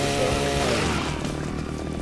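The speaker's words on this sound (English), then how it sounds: "Chainsaw the eye!" A revving chainsaw in the Splatterhouse video game, a steady loud buzzing drone that holds throughout with a slight rise in pitch near the start.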